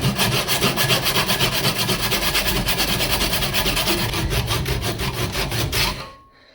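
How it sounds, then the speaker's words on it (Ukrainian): Hand saw cutting through hornbeam in steady, rapid back-and-forth rasping strokes, loud and close, stopping abruptly at the end. "Хотів різати дуба, але будемо різати граба."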